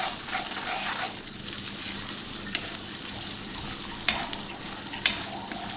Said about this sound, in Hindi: इसको मसाले को अच्छी तरह भूनेंगे।